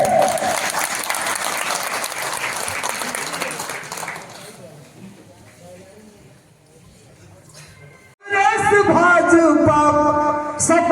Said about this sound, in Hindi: जोरदार ताली बजाइए और जोरदार बजाइए ताली।